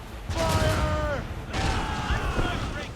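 Ship cannons fire during a naval battle in Assassin's Creed Rogue: two heavy booming volleys with rumbling tails, each under a shouted command and overlapping voices amid wind and sea noise.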